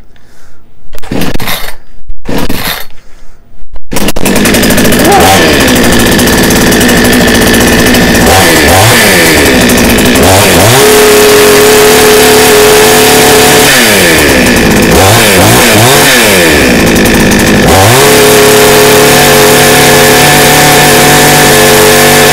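A chainsaw is pulled several times in short bursts, then its two-stroke engine catches and runs loud and close, revving up and down repeatedly.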